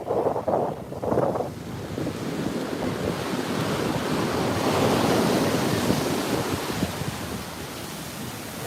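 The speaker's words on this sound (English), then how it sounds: "those are the giant ocean waves ever I've seen." Big ocean waves crash and surge onto the beach at Montara State Beach, California, a loud, sustained roar of surf swelling and receding, with wind buffeting the microphone and no talking.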